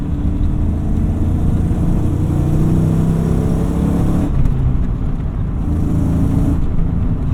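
A 1996 Ford Mustang GT with a V8 and cable throttle revs under driving, giving a steady, loud engine drone with rising and falling pitch and a brief shift in tone partway through. No talking.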